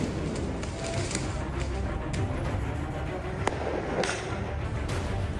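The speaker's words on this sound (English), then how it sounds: "Unrelenting barrage of fireworks." Fireworks set off during violent protests in Paris, heard as sharp cracks and whip-like bangs at irregular intervals over a dense, noisy background of street commotion.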